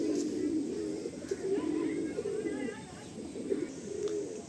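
A Madrasi pigeon coos in soft, repeated low warbling phrases, fairly close and quiet, with faint background noise and light chirps.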